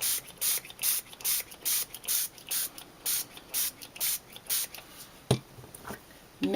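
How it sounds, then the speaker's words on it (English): Close, rapid spritzes of water from a hand spray bottle onto a card being made, a dozen or so short hissing bursts in a steady rhythm, followed by a faint knock. "Spray that."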